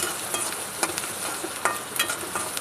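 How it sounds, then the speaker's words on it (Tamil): Chopped onions sauté in a pan for a butter bean curry, a soft even sizzle with light stirring scrapes and small crackles scattered across a few seconds. "வெட்டி வச்சுருந்த வெங்காயத்தையும் சேர்த்துக்கிறலாம் நல்லா வதங்கட்டும்"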